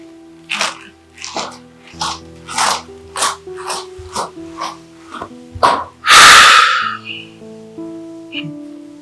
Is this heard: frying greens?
no